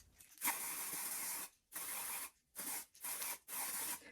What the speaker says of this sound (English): I love this lace tint spray. It is peach scented and it's quick drying.